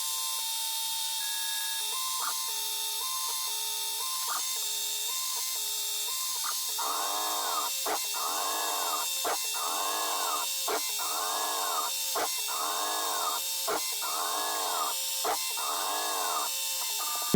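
CNC milling machine running in a shed knife workshop, a steady high whine with repeated rhythmic cutting passes, about nine evenly spaced pulses in the second half, fairly loud and without talk.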